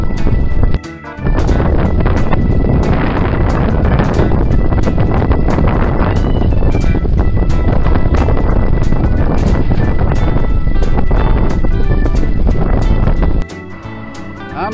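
Steady, loud wind roar buffets the microphone while riding a bicycle on an open road, with a tailwind pushing from behind; the rush runs almost unbroken, dropping briefly near the start and easing at the end.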